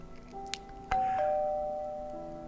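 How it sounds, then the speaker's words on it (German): A doorbell rings once in the video game Little Kite, a single clear chime with a long fading tone, faint and alone after a couple of small clicks. "Und es klingelt an der Tür."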